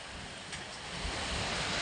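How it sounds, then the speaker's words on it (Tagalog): Dense, steady roar of strong wind with heavy rain pouring down on a mountain at night, growing slightly louder over a couple of seconds, no voices. "Malakas ang hangin at ulan."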